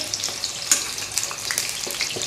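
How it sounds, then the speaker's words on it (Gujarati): Onions sauté in a pan over a full gas flame, a constant close crackling sizzle with quick spatters and light stirring scrapes, no speech. "ડુંગળીને આપણે એકદમ ફૂલ ગેસ પર સાંતળવાની છે"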